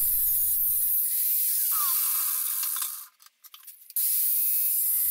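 A corded angle grinder cuts through a steel hammer head for a blacksmithing hammer, a loud steady high whine for about three seconds that drops away, then a few brief rough bursts before the grinding resumes at full strength.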